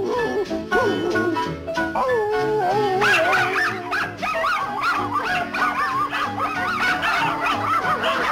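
A dog barks and howls loudly and continuously for about eight seconds, with long, wavering, rising and falling howls layered over shorter yips and whimpers.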